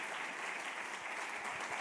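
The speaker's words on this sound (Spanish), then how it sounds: "si le vas a aplaudir a Él, hazlo fuerte" A church congregation applauds together, a dense, steady wash of many hands clapping at once that holds evenly throughout and sounds somewhat distant, with no speech over it.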